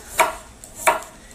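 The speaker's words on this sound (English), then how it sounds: "you're just going to slice them" A knife slices through raw radishes on a cutting board, making two crisp, close chopping strokes about 0.7 seconds apart with quiet gaps between them.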